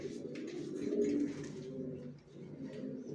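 Racer pigeons cooing, a low, steady, throaty murmur of overlapping coos that swells briefly and continues without pause.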